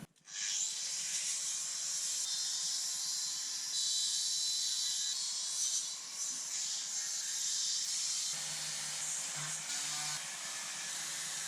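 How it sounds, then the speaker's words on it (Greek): Sanding a boat trailer during its restoration, a steady loud abrasive hiss that runs almost unbroken for the whole stretch after a brief start, with slight shifts in tone as the sander moves. "σήμερα έχουμε το τρίψιμο του τρέιλερ"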